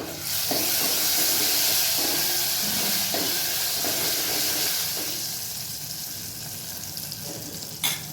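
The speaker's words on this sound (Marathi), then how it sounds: "काजू आणि खोबऱ्याचे काप आपण थोडेसे तेलामध्ये परतून घेऊया" Cashews and coconut slices fry in oil with a loud, continuous hissing sizzle that eases slightly toward the end, with a few stirring clicks and one sharp knock near the close.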